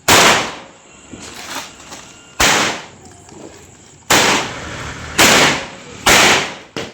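Firecrackers burst during a Vishu celebration: about six sharp, loud bangs at irregular intervals, each followed by a decaying crackle and echo.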